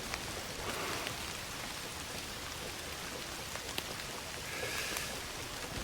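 Rain in the video game Indiana Jones and the Great Circle, an even, dense hiss of falling drops continuing without pause and with no speech.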